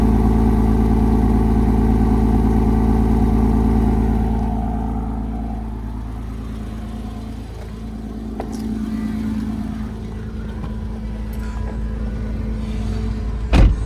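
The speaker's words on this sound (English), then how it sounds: "Exhaust sounds really good." A 2006 Porsche Boxster S with a six-speed manual gearbox idles on a cold start, its exhaust giving a steady low rumble heard alone, with the tone dipping slightly midway before settling and a brief sharp knock at the end.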